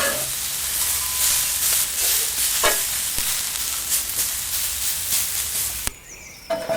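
Steak strips and peppers for Tex-Mex fajitas sizzle steadily on a grill, with a close, continuous crackling hiss throughout and a few brief stirring scrapes.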